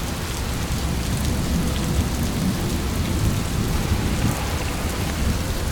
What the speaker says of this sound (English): Just don't expect it to rain in places like this, but when it does, you've got to think yourself fortunate to see it.